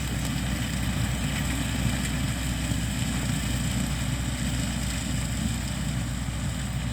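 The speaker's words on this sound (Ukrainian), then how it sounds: "Трактор трохи підмучує, ну та нічого" Tractor engine running steadily while sowing winter wheat with a seed drill in a field, a constant low rumbling drone with no breaks, moderately loud and alone.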